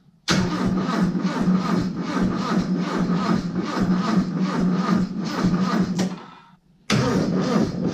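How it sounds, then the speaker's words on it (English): A Toyota 22R engine in a Celica drift build cranks and turns over loudly in a steady rhythmic churn, cuts out briefly, then kicks back in. "getting this engine started"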